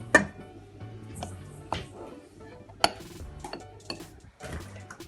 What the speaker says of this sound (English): you need to whisk it until the sugar and butter becomes like all creamed together